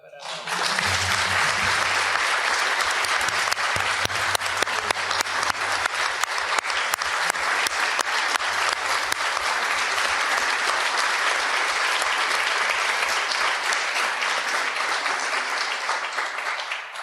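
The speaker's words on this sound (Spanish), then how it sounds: "Vamos a hacer un aplauso otra vez para" A hall audience at a Spanish-language book presentation breaks into sustained, dense applause lasting about sixteen seconds, loud and even throughout before tapering at the end, with a low hum underneath.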